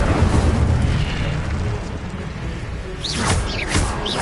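An Incendio fire spell is cast in Hogwarts Legacy, heard as a roaring, rushing burst of flame with a low rumble, followed by several sharp whooshing flares near the end.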